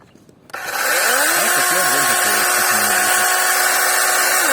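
A DeWalt cordless battery saw starts after a brief quiet moment and runs at a steady, loud whine for several seconds, with faint speech underneath.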